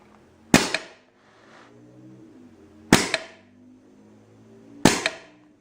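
A homemade pump action airsoft gun, charged to 150 psi, fires air alone three times, each a sharp, loud burst of released air followed by a short fading hiss, spaced about two seconds apart.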